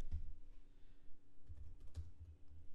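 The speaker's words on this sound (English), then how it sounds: "I have to type over here and look over here." Someone types on a laptop keyboard in a podcast setting, a quick run of light, irregular key clicks heard close and fairly soft over a faint background hum.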